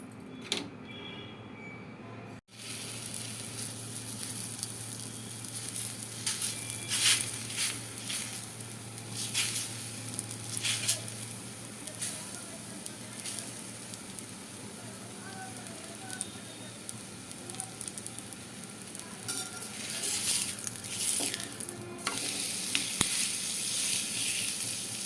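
Rice flour appalu frying in oil in a pan, giving a steady, close sizzle with crackling bursts that swells and fades over about twenty seconds, with a low hum underneath and no talk.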